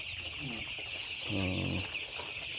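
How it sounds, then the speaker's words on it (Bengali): Broiler chickens, five days old, on a Bangladeshi farm housing about fourteen hundred birds, cluck and cheep in a steady close chorus, swelling briefly in the middle, with a voice talking over them. "চোদ্দোশো মুরগি এখানে আছে"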